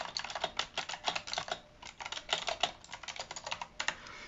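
Rapid, crisp clicking comes from a HIWING HI300 one-handed mechanical gaming keyboard with blue switches, as keys are struck in steady, uneven bursts, close-up and clear with no voices.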